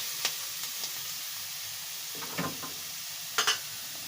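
Grated radish fries in a pan with a faint, steady sizzle and hiss, broken by a few soft stirring scrapes and clinks.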